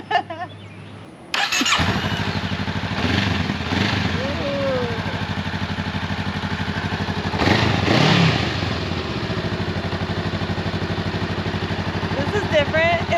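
A rented motorcycle starts up with a brief clattering crank and settles into a loud, steady rumbling idle, with a couple of revs swelling up, while people talk nearby.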